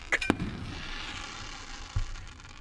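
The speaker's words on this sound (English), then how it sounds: "Here comes a big firework." A big firework bursts at a display, giving a sharp crack followed by a rolling, fading rumble, then a second smaller pop about two seconds later.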